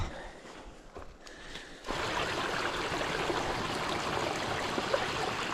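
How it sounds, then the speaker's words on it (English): A mountain stream in New Zealand's Southern Alps rushes in a steady, broad wash of water that swells suddenly louder about two seconds in and then holds at a constant roar, with no voices. "I found water"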